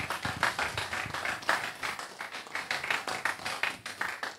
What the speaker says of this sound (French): Des applaudissements pour ces associations qui sont venues nous rejoindre.